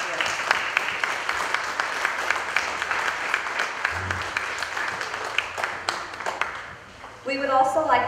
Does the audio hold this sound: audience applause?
yes